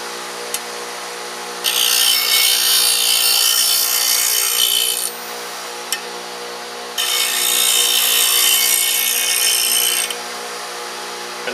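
A negative rake scraper is sharpened with long abrasive strokes, two sustained rasping passes of several seconds each with brief pauses between, close and fairly loud.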